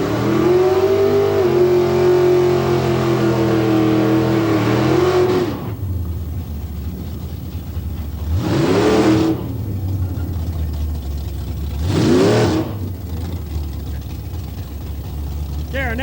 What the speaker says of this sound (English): our next car you can see pulling into our lights now is car number 33, Mr. Walter Franz from here in Medicine Hat.